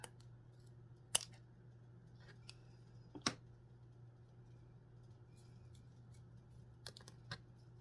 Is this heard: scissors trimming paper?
yes